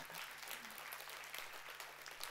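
Steady, dense audience applause fills an autumn meeting hall, sustained and even throughout with no voices over it.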